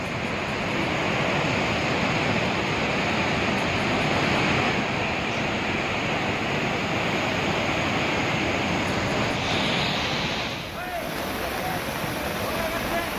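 Swollen mountain river after heavy monsoon rain, a dense continuous roar of rushing water that stays loud and unbroken, dipping only slightly near the end.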